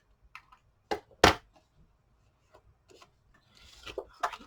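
A paper tag being trimmed on a paper trimmer with a slightly worn blade, heard as a few quick rasping slides and soft knocks spaced apart, then a busier stretch of scraping and handling near the end.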